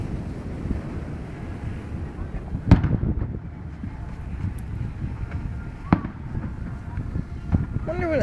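Distant chrysanthemum fireworks pop and boom a few times over wind rumble on the microphone, with faint voices in the background.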